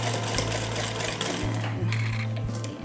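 Sewing machine stitching a medical face mask, a steady loud mechanical whir with brief pauses and restarts as the needle runs, close up.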